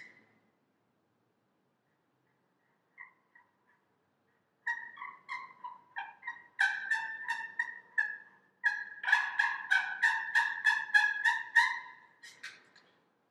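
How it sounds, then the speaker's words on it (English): A slate turkey call worked by hand gives a series of high-pitched, slightly raspy yelps, sparse at first and then in quick rhythmic runs, near and clear with no talk. "you're trying to go for a more high-pitched yelp or a more rough type yelp sound, then you go with the slate call"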